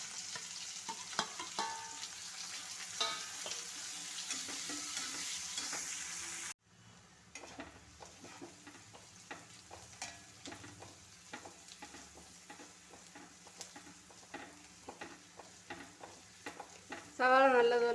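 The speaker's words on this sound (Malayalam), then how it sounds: "ഇനി ചൂടായ എണ്ണയിലേക്ക് ഈ സവാള എന്നിട്ട് വറുത്ത് കോരാം." Sliced onions deep-frying in hot oil in a pan for chicken curry make a soft, low sizzle, punctuated by frequent sharp scraping and tapping of a stirring utensil, with a change in level partway through.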